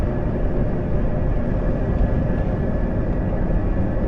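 Helicopter passing close by during a tornado storm chase, a steady broad rotor and engine roar holding loud and even throughout with no talk.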